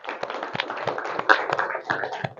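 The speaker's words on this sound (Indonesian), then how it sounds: "Enen malih tepuk tangan." A classroom of pupils clapping their hands together, a run of sharp, irregular claps that land close and clear and carry on for a couple of seconds.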